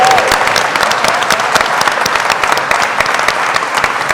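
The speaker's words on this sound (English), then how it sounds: "Please, please, please give our panel a huge round of applause." Sustained audience applause for a panel at a healthcare discussion event, a dense, steady wash of many hands clapping, loud and even throughout with no talk over it.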